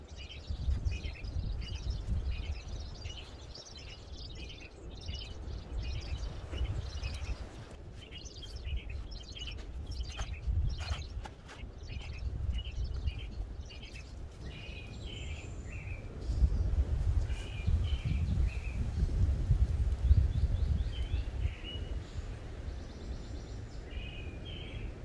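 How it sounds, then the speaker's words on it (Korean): Small birds chirp and twitter repeatedly in the open air on a mountain summit about 1,200 m high, the calls light and moderately distant over a steady low rumble of wind. "새소리도 좋고."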